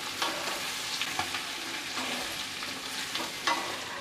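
Mashed potatoes are stirred and sautéed in a pan of tempered peanuts for a fasting-day potato dish, a low, quiet sizzle broken by several distinct scraping strokes of a spoon against the pan.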